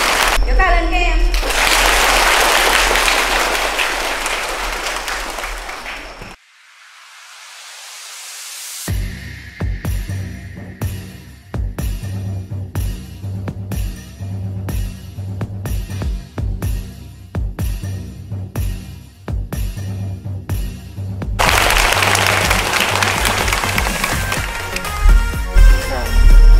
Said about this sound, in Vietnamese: Vỗ tay lên các em.